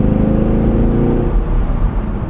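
A 2017 Chevrolet Camaro 2SS convertible with a manual gearbox gives off a loud, deep exhaust rumble under load, close and full-bodied, then settles into a rougher burble.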